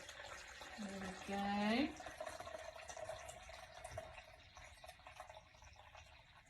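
Water poured into a half-filled beaker in a brief burst with a rising gurgling pitch, followed by quieter trickles and room ambience; a voice speaks briefly near the end.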